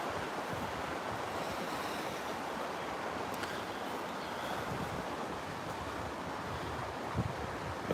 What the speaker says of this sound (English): just being here in nature, like with the sound of this flowing river